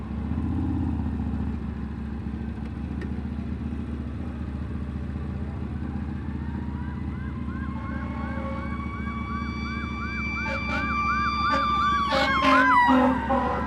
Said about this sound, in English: Ambulance and fire truck are behind me